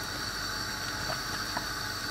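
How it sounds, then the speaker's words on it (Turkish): Soup for salted yogurt şişbörek simmers in a pot, giving a soft, steady bubbling hiss that stays faint and even throughout. "Şimdi çorbamız kaynıyor böyle."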